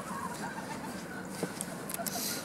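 A Red Mottled breeding hen clucks softly and intermittently, close by, with brief higher squawks among low farmyard background noise.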